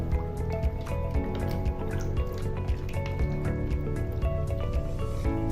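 Milk powder is stirred into milk for mango pudding in a kitchen, giving wet sloshing and dripping clinks as the mixture is worked round the bowl, steady and close throughout with no speech.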